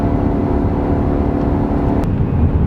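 A steady, droning engine hum fills the cab of a 2018 Chevrolet Silverado 2500 with a 6.0 engine and S&B intake, accelerating past 4,000 RPM, with a constant low rumble of road noise.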